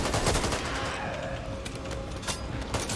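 Loud, rapid gunfire from the zombie shooter video game Back 4 Blood, with close bursts of shots fired in quick succession over continuous action noise.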